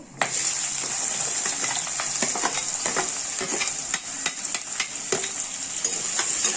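Finely chopped large onions sauté in hot oil in a pan while making vada curry, a steady close sizzle with repeated scraping and stirring clicks from a spatula, no voices.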